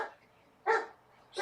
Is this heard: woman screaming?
no